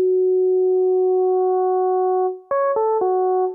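A steady pure FM synth sine tone holds alone, then drops out and returns modulated by another operator as a brighter, buzzier tone with added overtones, re-struck a few times in quick succession.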